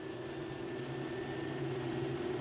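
Marine gas turbine engine idling at about 15,000 RPM aboard a launch, a steady, loud roaring whine with sustained high tonal hum, constant and unbroken with no voices.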